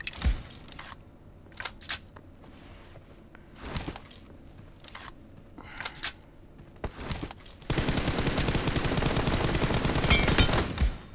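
Gunfire in a mobile shooting game played on a Samsung Galaxy phone, with sharp shots and short bursts scattered across the first part, then a dense, continuous rattle of rapid fire near the end, without talking.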